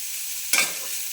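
Ivy gourd and roasted peanuts sautéing in a pan over a medium gas flame: a steady quiet hiss of frying with one brief, louder stirring swish near the middle.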